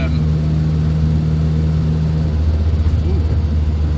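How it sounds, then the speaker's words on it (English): A classic MGB sports car rumbles along on the road, a steady low engine drone with a throbbing vibration running under someone talking inside the cabin. "There's a lot of sort of vibration and shake in this car, which is part of the character of it."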